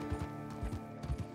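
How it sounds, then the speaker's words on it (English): A horse gallops across Red Dead Redemption 2 terrain, hooves landing in quick paired clip-clop beats that repeat about three times, fairly quiet over a soft steady game backdrop. "I'm not going to force my horse to sprint all the way, I'm just going to gallop the whole way there"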